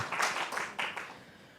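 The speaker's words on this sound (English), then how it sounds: "Big round of applause for everybody being here tonight." Brief burst of audience applause at an evening talk on reading disabilities, a short patter of clapping heard at a moderate distance that fades out within a second or two.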